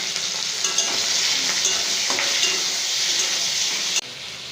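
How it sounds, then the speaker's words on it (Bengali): Prawns fry in hot oil in a wok, giving a dense, continuous loud sizzle with faint crackles and stirring, close up, cutting off abruptly near the end. "তেল গরম হয়ে গেছে। এবার মাছগুলো দিয়ে দিলাম"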